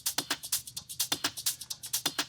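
Studio-produced hi-hat loop with crisp, close, bright ticks in a fast, steady rhythm, some accented, cycling evenly for a couple of seconds with no talk.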